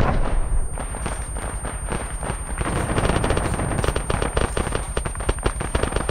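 A heavy gun fires in the video game Arma, dense rapid bursts of loud nearby automatic fire rattling continuously with booming low thumps throughout.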